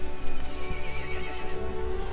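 A horse whinnies loudly in Resident Evil Village over a steady droning game soundtrack with sustained tones, the neigh rising and falling for a couple of seconds.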